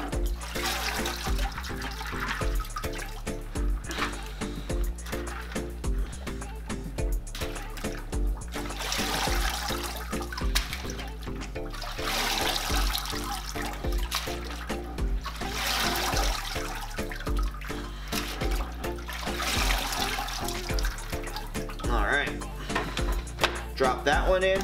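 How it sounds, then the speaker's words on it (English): Continuous splashing and sloshing water, surging in waves as aquarium filter trays from an Aquatop Forza filter are dunked and swirled in a bucket, close by, with no speech. "The beauty of these trays is I'm able to submerge them in this bucket of water"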